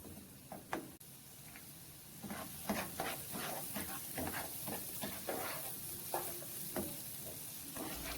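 Minced fresh garlic sautés in a pan for Jamaican seasoned rice, a soft steady sizzle with intermittent scraping stirs, close and quiet, no voices.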